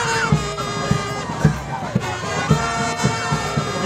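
A crowd cheers at a women's football match of the Tournoi de la Paix in Douala, Cameroon, with loud overlapping shouts and chanting voices over a steady rhythm of claps or beats.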